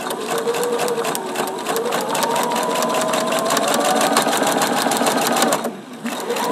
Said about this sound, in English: I'm going to stitch on the line between number 1 and number 2.